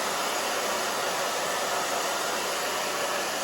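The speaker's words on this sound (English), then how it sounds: "just looking for my blow dryer" A blow dryer drying hair roars in a loud, constant hiss of broadband airflow, steady and close throughout without pauses or voices.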